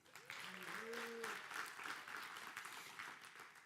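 A church audience at a foster family Sunday service claps steadily in sustained applause, with a brief voice or tone rising early on beneath the clapping.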